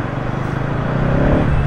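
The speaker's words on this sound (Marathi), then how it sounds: "त्याच्यामुळे एवढी ट्रॅफिक जाम" Road traffic in a jam during a motorcycle ride between Pune and the Ashtavinayak temples, a steady loud rumble of idling and creeping vehicle engines close by.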